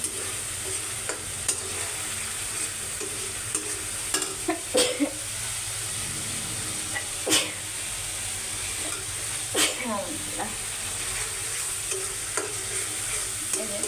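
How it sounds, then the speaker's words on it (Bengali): Meat and soaked green peas fry in a pan with ghee, a constant sizzle under repeated scraping strokes of a stirring spoon, and a faint voice now and then. "মটরশুঁটি কিন্তু আগেই দিয়ে দিই একটু ভাজা ভাজা করে দিই"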